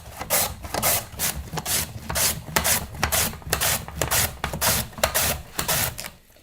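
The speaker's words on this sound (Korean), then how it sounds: "무채를 채칼을 이용해서 칠 건데요." Radish for kimchi is shredded on a julienne slicer in quick repeated rasping strokes, a steady scraping rhythm of about two strokes per second, close and loud with no talk.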